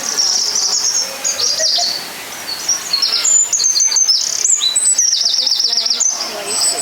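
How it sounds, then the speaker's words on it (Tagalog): Many birds chirp and tweet busily inside the Philippine Biodome in Manila, bright overlapping calls and rapid trills close by, with faint indoor background noise and a brief murmur of voices. "The sound of a bird."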